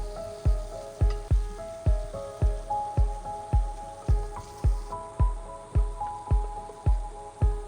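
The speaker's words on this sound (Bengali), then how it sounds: "কাঁচামরিচ ও টমেটো মশলার সাথে ভালো করে মিশিয়ে নেব।" Green chillies and chopped tomatoes are stirred into masala frying in a pan, a steady rhythm of regular spoon knocks roughly twice a second over a continuous sizzle, close and moderately loud.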